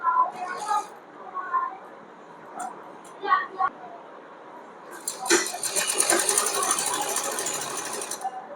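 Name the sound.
foot-pedal sewing machine stitching fabric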